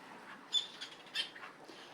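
A mother seabird squawks near her eggs on a rocky island, giving a few short, faint, harsh calls spaced about half a second apart with quiet gaps between.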